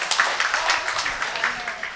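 A church congregation claps together in a short burst of scattered, uneven applause, moderately loud and close, with handclaps overlapping irregularly for a couple of seconds.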